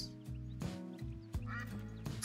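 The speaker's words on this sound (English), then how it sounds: "Some ducks." Several ducks quacking out on the water during a retriever hunt, a series of short nasal quacks in a loose rhythm, fairly faint and a bit distant, with no talking.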